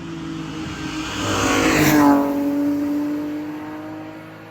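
A BMW E46 M3 with its S54 engine revs through a quiet, light exhaust, the pitch climbing to a peak near the middle and easing back down, a smooth sustained tone with no talking.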